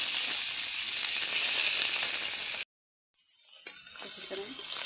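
Meat frying in the oil rendered from its own fat, giving a steady, close broadband sizzle that cuts out briefly for a moment of silence, then returns slightly softer.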